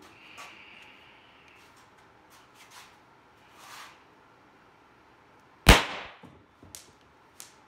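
A high-power air rifle fires a 10 gram pellet, giving one sharp, loud crack partway through, heard from some distance away. A few fainter clicks and knocks follow it.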